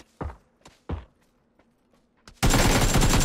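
Gunfire in a shooter video game: a few isolated sharp shots and thuds spaced out, then a loud, sustained burst of rapid automatic fire that runs to the end.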